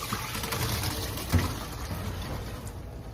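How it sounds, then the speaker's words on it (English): Red beans and water poured into a strainer in a kitchen sink, a soft steady rush of running water throughout with one small thump midway, no talking. "I'm gonna pour the red beans in the water in a strainer in the sink"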